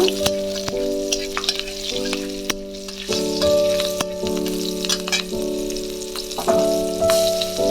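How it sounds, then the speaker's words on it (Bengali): Green chili, bay leaf and black cumin seeds hit hot oil for a tempering, giving a bright crackling sizzle with sharp spitting pops and sustained tonal hum, steady and close with a few stirring knocks and no talk. "তেল গরম হয়ে গেছে এবার আমি এর মধ্যে ফোড়ন দিয়ে দেবো কাঁচা লঙ্কা তেজপাতা আর কালো জিরে ফোড়ন দিয়ে দিলাম"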